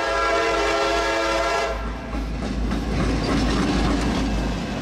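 Northbound freight train Q456 passing on the A line near Jacksonville, loud and close: a sustained horn blast for the first two seconds, then a steady rumbling roar of rolling cars continuing to the end.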